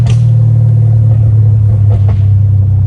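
A straight-piped Dodge Challenger Hellcat Redeye idling with a loud, deep, continuous exhaust rumble, close up and steady, with only slight rises in throttle and no clear hard revs.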